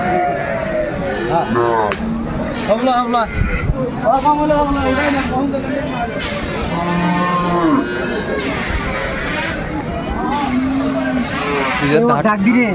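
Sahiwal cows moo loudly and repeatedly amid a busy crowd at the Aftabganj livestock market in Bangladesh, with people talking and chatter all around.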